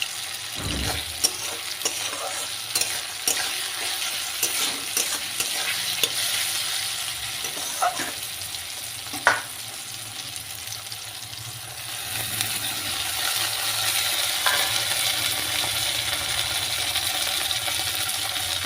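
Tomato with salt fries in a pan, an even hissing sizzle with scattered utensil knocks and scrapes early on, the frying swelling a little louder toward the end, close by, with no talking.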